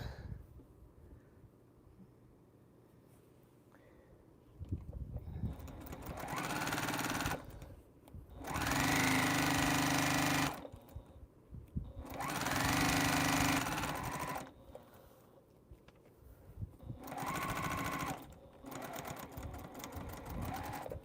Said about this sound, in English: we want to sew this other side